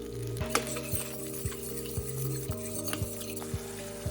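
A spoon stirs spices and yogurt in a cooking pan over a very low flame, scraping in a regular rhythm with light clinks over a faint steady hum, and no voices.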